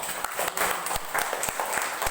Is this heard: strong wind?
no